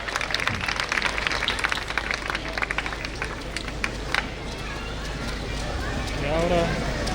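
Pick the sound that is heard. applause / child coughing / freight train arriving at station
applause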